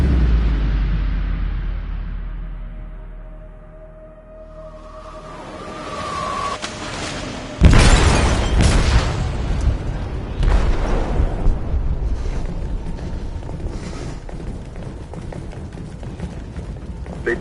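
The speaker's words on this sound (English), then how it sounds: "They detonated an explosive in the hold." In a video game, an explosive goes off in a ship's hold. A deep rumble builds, then a loud booming blast hits and is followed by sustained crashing and roaring debris noise.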